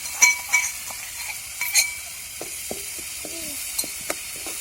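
Chili garlic masala paste, ground in a mortar, fries in a pan with a soft sizzle, punctuated by a few sharp metallic spatula clinks near the start and faint scraping stirs.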